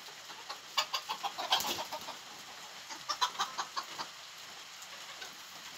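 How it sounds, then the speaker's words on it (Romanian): Bantam hens clucking in a backyard flock, a series of short, fairly close clucks in uneven bursts, busiest near the start and middle, then thinning out, with no talking over them. "Cam astea-s găinușele."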